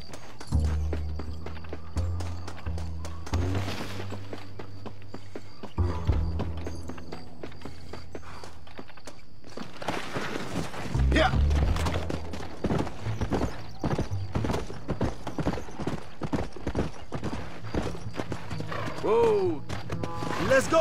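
Horse hooves clip-clopping in the video game Red Dead Redemption, a steady walking rhythm of hoofbeats running throughout alongside game dialogue, music and occasional whinnies.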